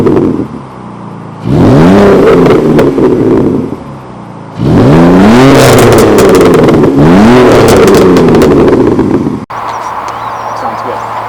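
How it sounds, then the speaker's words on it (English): Exhaust from a 2JZ-engined car revs hard in repeated rising surges, loud and close, with pauses between pulls and a lower idle at the end. "We have exhaust here that is off of a 2JZ car. It actually sounds good."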